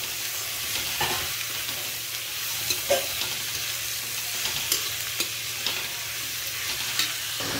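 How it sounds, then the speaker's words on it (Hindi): Chopped vegetables and green chillies sizzle in a pan for chow mein, a steady frying hiss with occasional scrapes and clinks of a spatula stirring, close and moderate. "अब ये इसको अच्छे से फ्राई करेंगे।"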